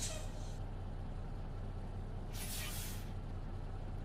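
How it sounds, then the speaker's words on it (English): Air brake on a heavy truck idling in neutral, a sharp broadband hiss bursting out briefly near the start and again mid-way over a steady low diesel engine rumble. "I'll actually put the truck into neutral, hit the brake."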